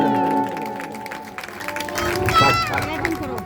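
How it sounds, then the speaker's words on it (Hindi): An audience at a Bhagavat Katha religious discourse in Sanauth, Delhi breaks into brief clapping that swells partway through, mixed under a speaking voice. "ताली बजाओ।"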